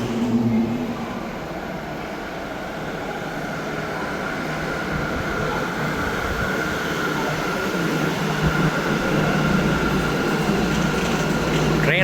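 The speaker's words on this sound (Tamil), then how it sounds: "A train is approaching platform 4." A small train pulls in at a station platform in Japan, a steady rumbling roar with a rising hiss and squeal, heard continuously and fairly close over background crowd noise.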